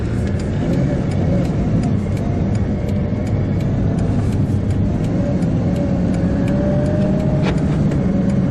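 A Bugatti Veyron drives off calmly through town, its engine a steady, loud low rumble with road and wind roar from inside the car and a faint rising whine near the end.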